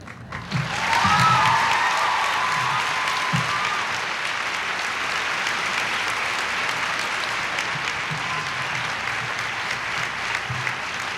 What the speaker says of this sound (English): I'm not gonna tell George you clap more for Ferris than you clap for George.